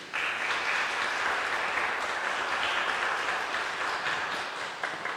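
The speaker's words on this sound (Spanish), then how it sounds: "damos un aplauso al niño Jesús" A church congregation at a Christmas Mass applauds steadily, a dense, even wash of clapping that holds for several seconds before tapering slightly at the end.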